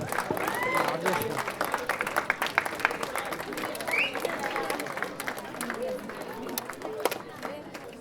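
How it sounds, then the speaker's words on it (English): Sustained clapping from a college Women's Day audience, a dense patter of hand claps over crowd murmur and talking, steady for several seconds before easing slightly. "Let's give them a round of applause."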